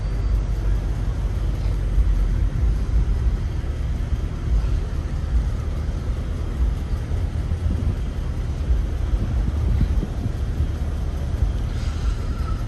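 Steady low rumble of New York City street traffic at mid-morning, a dense continuous wash of engines and road noise with no break and no voices.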